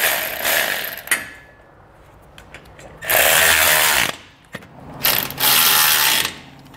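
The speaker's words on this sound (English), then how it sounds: "we need to take a 3 quarter inch or 19 millimeter socket and snug the new hardware down" A 19 mm socket on a ratchet wrench snugs Blue Ox base plate bolts on a 2022 Ram 1500. Three loud, close bursts of rapid ratchet clicking are separated by short quiet pauses.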